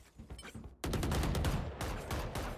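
Rapid, loud gunfire in a Valorant match, a dense stream of shots starting abruptly after a quieter lead-in and continuing to the end with a brief dip.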